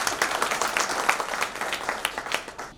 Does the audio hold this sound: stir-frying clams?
no